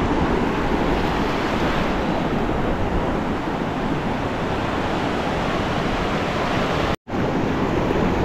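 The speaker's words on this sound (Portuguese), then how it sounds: "o mar tá ficando bem agitado já, já subiu bastante a água" Rough sea surf rolling in at Pernambuco beach in Guarujá on a cold morning, a steady loud wash of breaking waves with wind buffeting the microphone and a brief dropout near the end.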